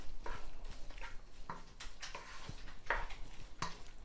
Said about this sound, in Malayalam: ഇതിലേക്ക് ഫ്രൈ ചെയ്ത് വെച്ച ചെമ്മീൻ ഇട്ട് കൊടുക്കാം. ഇതിന് നന്നായിട്ട് മിക്സ് ചെയ്യാം.